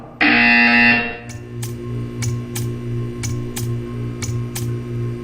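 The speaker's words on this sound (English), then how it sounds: "You will hear a buzzer. When you hear the buzzer, stare at the art." A loud harsh buzzer blares for about a second in Portal 2, then stops, followed by a series of sharp ticking clicks over a low steady hum.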